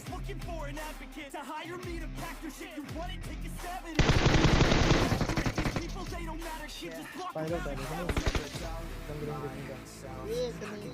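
PUBG Mobile gunfire, rapid automatic bursts with a loud, dense volley in the middle and scattered shots later, under someone talking over the game audio.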